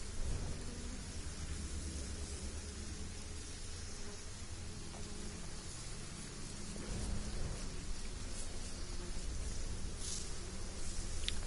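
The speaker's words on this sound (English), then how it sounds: "Does it ever stop raining?" Rain and thunder in a video game: continuous steady rainfall with low rumbling thunder swelling underneath, building slightly louder toward the end, with no talk.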